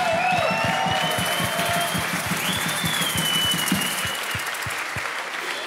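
A banquet crowd applauds the football team after a championship season, dense sustained clapping from many people with scattered cheers, under a steady rhythmic thumping beat that continues as the clapping slowly thins.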